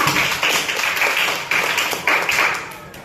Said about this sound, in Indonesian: kasih tepuk tangan untuk Talita.